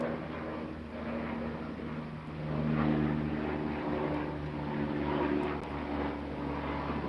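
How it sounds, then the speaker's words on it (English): A propeller airplane passes overhead outdoors, its steady droning hum swelling to a peak midway and then holding at a moderate level, continuous and unaccompanied by talk. "we're just going to let this plane fly over real quick"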